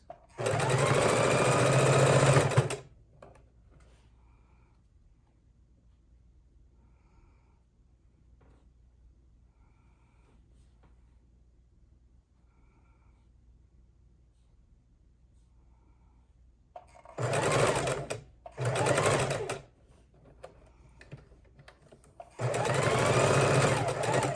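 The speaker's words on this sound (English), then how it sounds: "Make sure our seams match as we go across." A sewing machine runs seams on a pinwheel quilt block in three loud, close bursts: one at the start, then two short runs and a final run after a long quiet pause.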